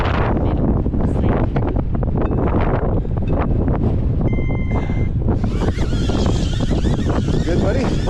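Strong wind roars and buffets the microphone continuously and loudly during a high-wind test of a HoverAir X1 ProMax drone. A voice speaks partway through.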